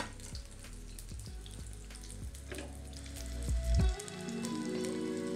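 Fish cakes frying in hot oil in a pan, a steady close sizzle with a few soft clunks and a louder crackle as they shift.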